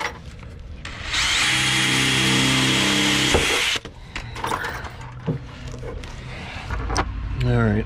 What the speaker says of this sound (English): Now I'm going to drill my 3/16 hole.